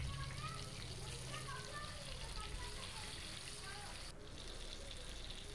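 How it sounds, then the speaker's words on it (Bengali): Pointed gourd (patal) pieces frying in hot oil over a low to medium flame, giving a steady, close sizzle and crackle throughout, with faint background voices. "এবার একটা একটা করে পটল ওই গরম তেলের মধ্যে দিয়ে ভেজে নিচ্ছি।"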